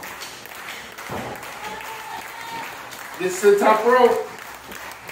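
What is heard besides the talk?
wrestling crowd cheering and applauding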